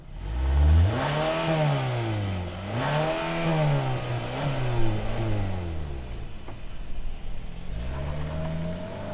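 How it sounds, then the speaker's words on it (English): A 2025 Kia Sportage SX with front-wheel drive and an 8-speed automatic rises into a strong, loud rev that swells and dips several times, then falls away and picks up again briefly near the end, with no talking. "let's fire it up and see this thing roll"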